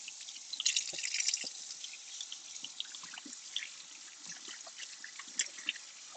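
Water from a tap trickles and drips as orange fabric dye is rinsed off hands at a sink, a steady close splashing with scattered droplet hits and no talk.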